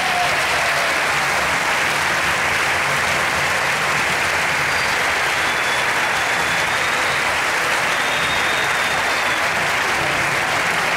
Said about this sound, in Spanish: con el más fuerte de los aplausos